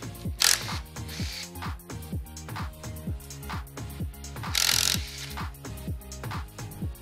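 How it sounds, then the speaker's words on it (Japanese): Tools work on the exhaust manifold of a Honda Beat engine during a restoration, with rapid repeated metallic clicking and ratcheting, plus two louder bursts of scraping or clattering. "次はエキゾースマニホールド外していきましょう"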